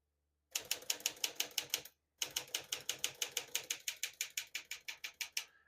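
A 1956 Smith-Corona Silent-Super portable typewriter typing in steady runs of crisp, close keystrokes, with a brief pause before a longer even burst; no voices.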